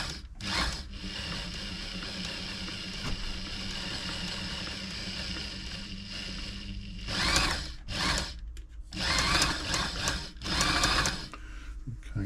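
A serviced Brother XL5012 sewing machine runs at close range with a steady mechanical whir, then several bursts of faster, louder stitching with brief pauses between them toward the end.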